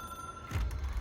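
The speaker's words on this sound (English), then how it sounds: "It is a phone." Ringing phone in the video game Control, a thin electronic tone held briefly before a low thud and burst of noise cut in.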